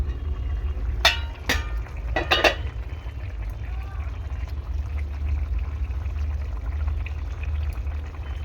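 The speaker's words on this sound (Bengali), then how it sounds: "জল দিয়ে বাটিটা ধুয়ে নেব।" Water is poured into a bowl to rinse out ground cumin in a home kitchen while fish curry is being made, with a few short splashing bursts early on over a steady low background hum.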